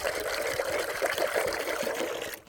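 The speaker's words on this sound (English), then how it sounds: "I fill these up with water now" Water pouring into a tub for farm animals, a steady, moderately quiet trickling flow that runs continuously and cuts off at the end.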